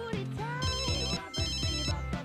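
A mobile phone rings inside The Sims 3 video game: a bright electronic ringtone melody repeating in quick phrases, clear and fairly loud with nothing else over it.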